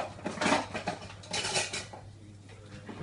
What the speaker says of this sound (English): Savannah, mixing cake